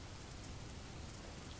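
An artificial storm effect of steady, dense rainfall hisses evenly and faintly throughout, with no break and no voices.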